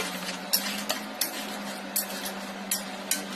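A pot lid lifted and beef being stirred in a pot while cooking, several sharp metallic clinks and scrapes spaced irregularly over a low steady hum, close by with no speech.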